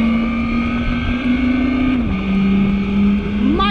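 2023 Segway Ninebot Gokart Pro electric go-kart driving with its synthetic engine sound, a loud continuous motor-like drone that holds pitch, dips slightly, then rises, close and steady with no talk.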